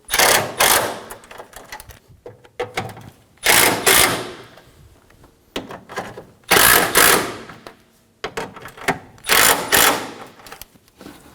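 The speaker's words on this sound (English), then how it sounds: "Using a 10mm socket, tighten down these bolts." A 10mm socket ratchet tightens radiator bolts on a 2013-2017 Honda Accord, clicking in four loud, close bursts separated by short pauses.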